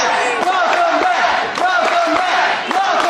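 A wrestling crowd at an NYCW show roars and shouts in a dense, loud wall of cheering, with raised yells swelling and dipping throughout.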